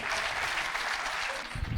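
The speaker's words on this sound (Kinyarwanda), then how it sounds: "Amashyi menshi cyane kuri afande wacu." Audience applause, a short dense burst of steady clapping from a crowd, alone without talk.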